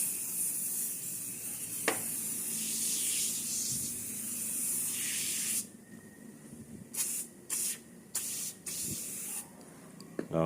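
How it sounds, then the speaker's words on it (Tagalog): Carmoon tire foam cleaner hisses from an aerosol can onto a tire in circular motion, one long steady spray followed by several short separate bursts. "shake well and spray natin in circular motion"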